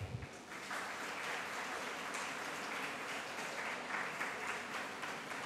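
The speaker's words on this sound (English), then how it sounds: "Please welcome our little graduates with a big round of applause" Steady, fairly faint applause from an audience at a preschool graduation ceremony, continuous even clapping welcoming the young graduates as they process in.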